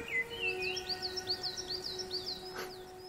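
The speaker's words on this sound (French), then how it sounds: "Et puis la mésange noire dessus là." A coal tit sings a rapid, rhythmic series of high repeated notes, faint against a steady low hum.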